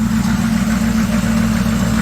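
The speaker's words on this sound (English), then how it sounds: "And it's actually idling on its own." A heavy GMC truck engine idles steadily up close, a constant low rumbling drone with a slight rhythmic pulse.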